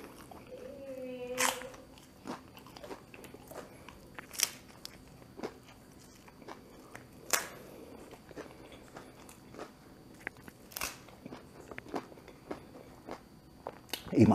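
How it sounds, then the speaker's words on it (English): Taco Bell tacos are eaten close up, giving sharp, irregular crunches of hard shells spaced a second or two apart, with quieter chewing between them and a brief voice near the start. "Eat my taco upside down."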